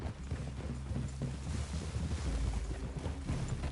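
Horses' hooves clip-clop in Red Dead Redemption 2, a steady loose rhythm of low thuds beneath a constant outdoor wind and mechanical rumble, with no talking.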